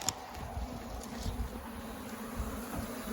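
Steady buzzing from many honeybees at a hive, fanning their wings, a soft continuous drone close by, with faint rustling and no voices.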